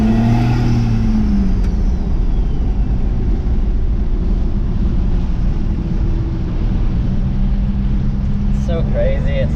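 A first-generation Cummins diesel truck drives and accelerates, its low engine drone steady and loud throughout with heavy wind buffeting over it, and a voice briefly heard near the end.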